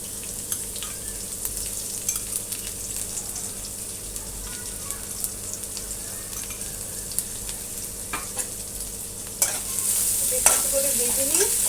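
Garlic frying in a pan with a green chili gives a steady, close sizzle with scattered stirring scrapes that grows louder and busier over the last couple of seconds.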